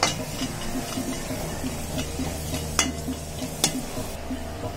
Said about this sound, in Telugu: ఈ జీడిపప్పు అందులో వేసుకుని వేయించుకోవాలి. బ్రౌన్ కలర్ వచ్చేంత వరకు వేయించుకోవాలి.